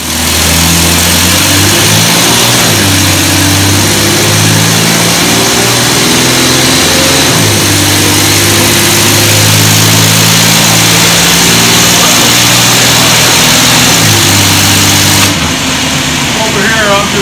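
A custom-built motorized transmission tester fitted with custom headers runs loudly and steadily nearby, its engine tone rising and falling through several rev changes, with voices talking over the engine.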